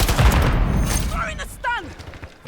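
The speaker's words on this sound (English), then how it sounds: "Semtex out!" A Semtex grenade goes off in a first-person shooter video game, a heavy low boom at the start, followed by rattling gunfire and brief voices in the game.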